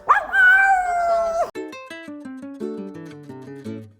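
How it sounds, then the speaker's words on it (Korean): A dog lets out a long, wavering howl, then a series of short descending whines and yips, close and alone. "요즘 잘 보는 강아지예요. 말이 정말 많아요."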